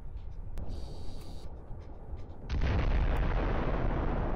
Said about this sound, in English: The powerful explosion leaves only black smoke from the target.